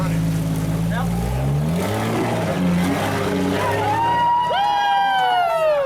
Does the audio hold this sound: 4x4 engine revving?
yes